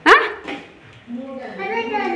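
A single sharp, close bark from a dog at a family birthday gathering, followed by people talking nearby.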